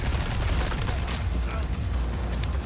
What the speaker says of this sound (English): The explosives people are shooting at us.